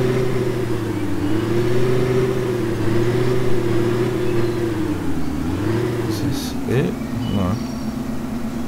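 A vehicle engine hums steadily while driving around a small town map in Farming Simulator 2015, with the pitch dipping and rising near the end; loud and close throughout.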